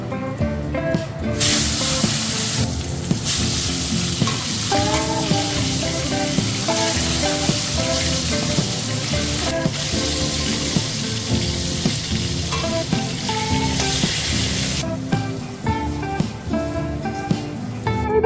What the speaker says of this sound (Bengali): এখানে উচ্ছেগুলোকে ভেজে নিচ্ছি,